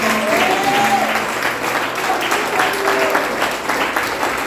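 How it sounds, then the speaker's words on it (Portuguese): A church congregation applauding during a worship service, loud sustained clapping from a large crowd with brief vocal exclamations mixed in. "Diga amém e aplaude o mesmo porque merece"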